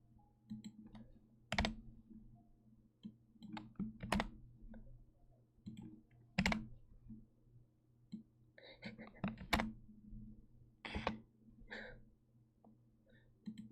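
Sparse clicky keyboard typing, a few sharp isolated key clicks spaced irregularly over a soft low hum, with faint breathy mouth sounds between them.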